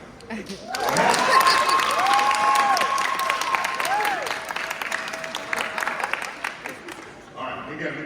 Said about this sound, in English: they're going to give you a big round of applause here this afternoon